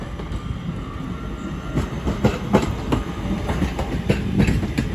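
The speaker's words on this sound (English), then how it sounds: "as 323-223 now departs with the 1316 Northern service to Manchester Piccadilly." A Northern class 323 electric train pulls out of Crewe station on the West Coast Main Line, heading for Manchester Piccadilly, with close, rumbling wheels and an irregular clickety-clack of rail joints over a steady low drone.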